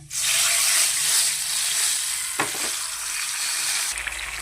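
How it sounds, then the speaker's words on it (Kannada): Soaked tamarind juice hits hot oil and bursts into a loud, hissing sizzle that starts at once and settles into a steady, bubbling fry, with a brief clatter partway through. "ನೋಡಿ, ಇದೇ ಎಣ್ಣೆಗೆ ನೆನೆಸಿರೋ ಅಂಥ ಹುಣಸೆಹಣ್ಣು ರಸ"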